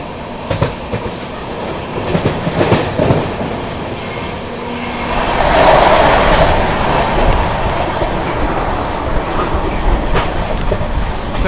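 The 12393 Sampoorna Kranti Express runs at speed, a loud continuous rumble with rhythmic clickety-clack from the wheels and a swelling roar midway.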